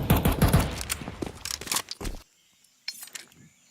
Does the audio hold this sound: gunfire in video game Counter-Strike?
yes